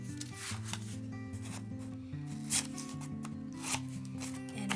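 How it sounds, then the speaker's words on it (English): Corners of a tin-foil-covered mini journal cover are cut off, with a few soft snips and crinkly rubbing of foil over a background of steady music-like tones. "now I'm just going to lop off all those corners so that it makes it easier to fold over"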